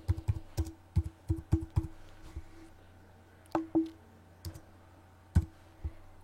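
Keystrokes on a computer keyboard while typing words, a series of distinct close clicks in quick bursts with short pauses, fairly quiet and without talk.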